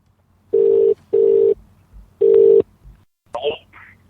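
Touch-tone dialing beeps on a phone during a live late-night radio call-in show, three steady tones in quick succession, loud and close, followed by a short ringing-line chirp.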